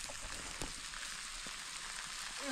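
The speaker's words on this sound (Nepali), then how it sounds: "पानी पर्यो अब असिना झर्यो आहा ठुलो पानी पर्ने रहेछ पानी चाहिँ पर्न सुरु गर्यो" Rain and hail beginning to fall outdoors, a soft continuous patter with scattered sharp ticks of hailstones, fairly quiet, with no speech.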